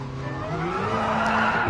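Tires spinning and squealing under hard throttle in the Gran Turismo Sport racing game, a continuous screech over a steady engine drone that builds slightly in loudness, with no talking.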